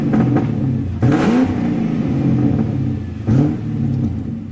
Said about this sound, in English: listen to the engine moaning out his one-note song